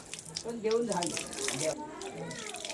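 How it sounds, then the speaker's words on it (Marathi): Water splashes and runs over a plucked country chicken as it is washed, faint tap-like flow with intermittent sloshing, heard under a person talking nearby. "जी बारीक सारीक दिसतात ना ते आम्ही पाण्याने व्यवस्थित धुवून घेणार"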